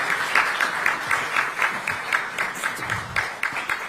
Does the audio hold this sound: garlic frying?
no